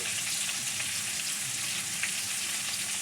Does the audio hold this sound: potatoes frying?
yes